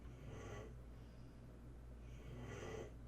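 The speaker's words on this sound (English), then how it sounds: "You hear the dog snoring?" A dog snoring nearby in a quiet painting studio, two slow, soft snorting breaths spaced about two seconds apart over a faint, steady room hum, with no talking.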